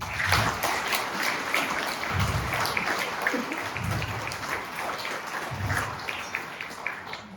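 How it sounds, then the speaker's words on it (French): An audience applauds at a New Year greetings ceremony in a French town hall setting, steady clapping from a modest crowd with low murmurs and thumps underneath, continuing evenly throughout. "On peut les applaudir."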